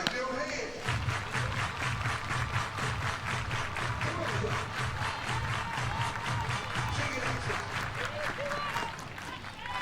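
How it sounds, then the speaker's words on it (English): A crowd at a college softball game between Oklahoma and Missouri claps in a steady rhythmic unison beat, with background music and announcer talk layered over it. "Everybody clap your hands."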